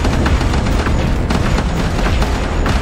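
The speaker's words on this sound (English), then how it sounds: "I've got a laser now. I can just kind of swipe this around." Weapon fire in the undersea game Ocean Keeper booms as a loud, continuous barrage of dense rumbling blasts with bursts of crackle, sweeping on without pause.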